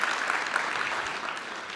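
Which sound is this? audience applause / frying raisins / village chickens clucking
audience applause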